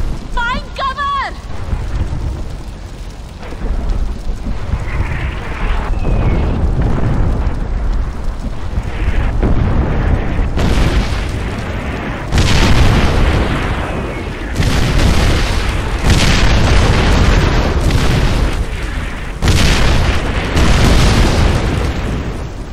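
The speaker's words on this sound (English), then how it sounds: "Incoming. Take cover. Artillery! Look out! Incoming!" Artillery shells explode again and again in Far Cry 4, loud booming blasts rolling one after another. Shouted voices are heard over the rumbling bombardment.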